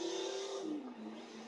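Custom-painted UPS truck driving in Forza Horizon 2, a faint steady engine tone that drops in pitch as it shifts, close and quiet with no voices.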